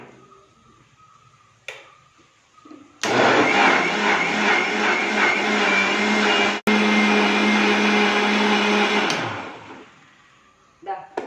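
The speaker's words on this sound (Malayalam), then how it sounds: "ഇതൊന്നും കൂടെ നല്ലതായിട്ട് അരച്ചെടുത്തിട്ടുണ്ട്" A mixer grinder whirs loudly and steadily for about six seconds as it purees a papaya ice cream mixture, starting abruptly and winding down, with quieter kitchen sounds before and after.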